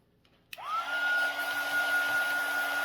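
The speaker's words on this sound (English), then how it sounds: "using a heat gun" A heat gun dries a DIY remote control box craft project, switching on with a click and rising whine, then blowing as a steady, close, loud whoosh with a sustained tonal hum.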